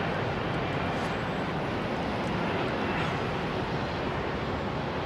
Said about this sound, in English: Network's very own jumbo jet in new livery as well